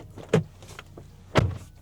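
2023 Hyundai Palisade Limited, switched off, its door opened and shut: two distinct thumps about a second apart with faint mechanical clicks between, close by and otherwise quiet.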